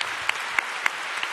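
An auditorium audience applauds a performer taking the stage, a brief burst of steady, dense clapping at moderate volume.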